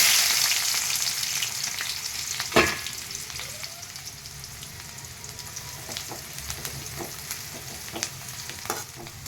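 Onions frying in two tablespoons of oil over a low flame with cumin and mustard seeds, a steady close sizzle with scattered crackles and one sharp clatter of stirring, no voices.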